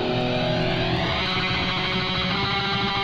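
Guitar reamped through a Kraken 50-watt head at full power, boosted by a Maxon OD808 overdrive, giving a loud, dense, continuous distorted wall of chugging tone for about three seconds with no talking.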